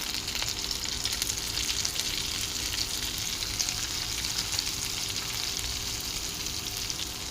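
Rajasthani vegetable sabzi frying and being stirred in a pan over a low gas flame: a steady, dense sizzle that holds close and even throughout, with soft scraping of the stirring underneath and no talk.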